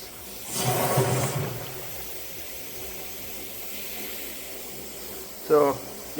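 Air bubbling through cold water in a homemade hot tank filled halfway, with the air pump on its lowest setting, a burst of hissing, gurgling agitation early on that then settles to a quieter steady bubbling, followed by a short voice.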